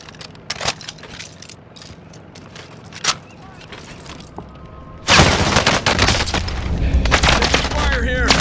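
Call of Duty multiplayer gunfire: scattered single shots early on, then a sudden dense burst of automatic fire and explosions that continues loudly to the end, with players talking over it.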